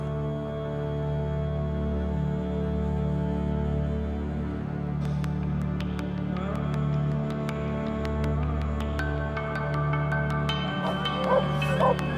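Sled dogs in the snowy Yukon yip, whimper and bark amid a constant low rumble, their calls scattered and moderately distant, with no clear speech.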